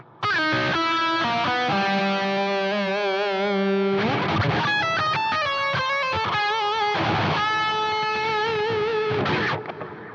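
An electric guitar played through a lead patch with effects and distortion rings out alone, first sustained bending notes with vibrato, then faster runs and chopped, gated phrases, loud and close throughout.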